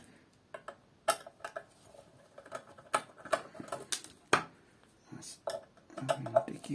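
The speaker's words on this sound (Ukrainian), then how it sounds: "Чотири гвинтики відкрутили і розібрали" Small screws are worked loose from the case of a 2800W 12V-to-220V pure sine wave inverter with a screwdriver, giving scattered sharp metallic ticks and scrapes close by, with someone talking intermittently.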